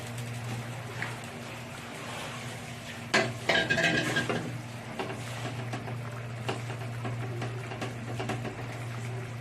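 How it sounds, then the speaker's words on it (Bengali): Fish pieces go into a thin bubbling fish curry with ridge gourd, making a brief clatter and splash over a steady low boiling burble and background hum. "ঝোলটা ফুটে গেছে, আমি মাছগুলো দিয়ে দিচ্ছি"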